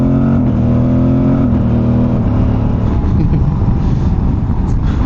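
Aprilia motorcycle fitted with an SC Project slip-on exhaust pulls hard under load with quick-shifter gear changes, a loud, close, continuous engine roar whose pitch climbs and steps.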